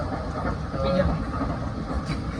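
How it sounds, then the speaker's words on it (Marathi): A steady low rumble and rattle of a moving train at night on a Latur to Tirupati journey, heard from inside a carriage, continuous and fairly loud with faint voices mixed in. "ट्रेनमध्ये सफर करत आहे हॅपी जर्नी चालू आहे"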